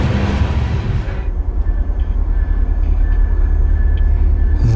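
A freight train rolls through a station in Mexico, giving a loud, steady low rumble with rattling wagons and a faint high squeal, continuous and close throughout.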